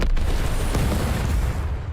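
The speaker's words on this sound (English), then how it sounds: "Gotta love me cannon." A cannon fires in a video game, a loud booming blast with a rumbling low-end roar that fills the whole two seconds at close range.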